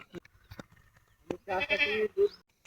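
A goat bleats loudly up close, a wavering call followed by a shorter second bleat, after some scattered clicks and rustling.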